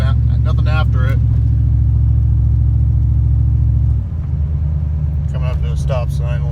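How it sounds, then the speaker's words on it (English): Car exhaust with long tube headers, an off-road wide pipe and a Borla XR1 muffler with no tailpipe, a loud deep steady rumble that drops in pitch partway through, with someone talking over it. "Long tube headers, off-road wide pipe, just Borla XR1 muffler, nothing after it."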